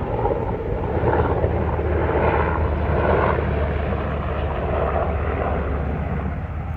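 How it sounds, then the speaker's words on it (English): Continuous whirring aircraft engine drone, steady and moderately loud, like a helicopter passing overhead, with no talking. "a little helicopter now."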